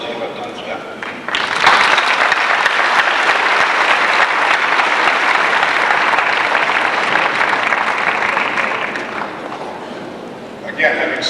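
Graduation audience applauding the class of '94, a dense, loud wash of clapping that swells after a short quiet start and holds steady for about ten seconds before easing slightly.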